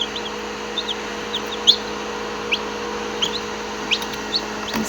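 Three newly hatched chicks chirp in short, high, scattered peeps over a steady electrical hum, the calls close but fairly faint.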